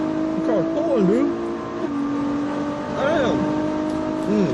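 A car engine rises and falls in pitch as it revs and pulls hard, heard from nearby over steady road noise, with people talking excitedly over it.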